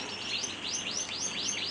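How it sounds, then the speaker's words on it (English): Bullfinches near their nest during breeding season give a quick run of about five soft, rising chirps in steady succession, close and clear against a quiet background. "I'm right in the line of where these bullfinches are, and the birds want to feed their chicks"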